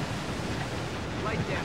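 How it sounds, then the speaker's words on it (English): Rough, rushing ocean waves in the naval combat video game Warship Gunner 2 roll on as a steady, dense wash of surf noise with no pause. "The waves are going crazy."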